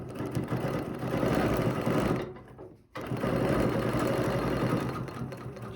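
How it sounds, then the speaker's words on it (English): A sewing machine stitching quilt fabric, whirring steadily and close for about two seconds, stopping briefly, then running again at the same even pace. "I'm going to use the outside of the Beanie 5-1 and line it all up. Stitch a little bit more."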